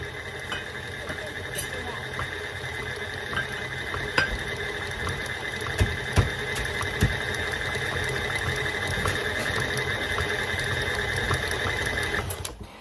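An electric mixer whirs steadily, beating sugar in a bowl for potato chip cookie dough, with a continuous motorized drone and occasional clicks of the beaters against the bowl.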